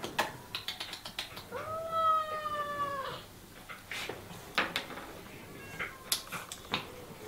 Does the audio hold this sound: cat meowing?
yes